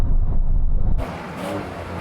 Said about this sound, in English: Now we can have a brake test from 100 miles an hour.